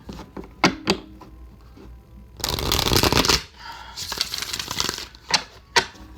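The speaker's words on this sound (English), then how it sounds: "It's hurting my hands shuffling these cards today" Cards are shuffled close by: scattered flicks and taps, then a long rapid riffle, followed by another riffle and a few sharp snaps.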